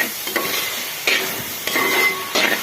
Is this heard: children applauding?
no